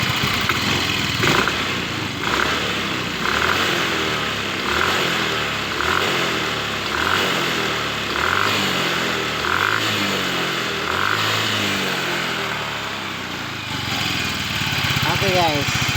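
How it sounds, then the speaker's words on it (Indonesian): A Yamaha Mio M3 scooter that stalls while riding has its throttle opened repeatedly, the engine revving in a steady series of rising and falling surges over a continuous idle, loud and close. "Jadi coba kita tarik gasnya guys."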